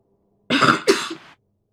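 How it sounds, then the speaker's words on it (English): Two rough coughs come close together from a single nearby person, the second a little louder, with a short throat-clearing tail and silence on either side. "Sorry about that, I had a little cough."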